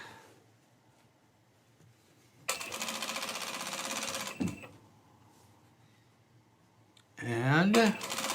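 A sewing machine stitches fabric scraps for a shirt, a fast mechanical whirring run in a couple of bursts, close and loud, with quieter pauses and a person speaking briefly between them.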